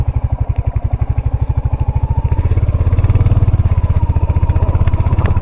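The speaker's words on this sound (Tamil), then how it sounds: "இது ஹண்டர் 350 பைக்கு." A Royal Enfield Hunter 350 motorcycle's single-cylinder engine thumps in a steady, rapid, evenly pulsed beat close by, growing slightly louder and fuller midway as it climbs an off-road slope.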